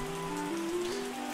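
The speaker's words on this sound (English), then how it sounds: "This is what we wanted. We wanted rain." Steady rain pours down in the vineyard game Terroir, a constant dense hiss with no voices over it.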